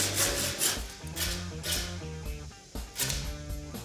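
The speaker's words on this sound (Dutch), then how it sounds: "En dan met je zaagje kun je hem schoon afzagen" A small hand saw cuts through a steak bone in back-and-forth rasping strokes, close and moderately loud, each stroke a gritty scrape in steady rhythm with brief pauses between.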